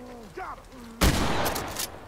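A loud, dense burst of gunfire from the tactical shooter Ready or Not erupts after a shouted command, with a rapid volley of shots and echoing tails following a brief stretch of voice.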